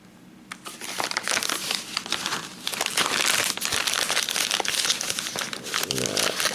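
Loud, close crinkling and crackling of stiff plastic as a package is pulled and torn open, continuous after a brief quiet start.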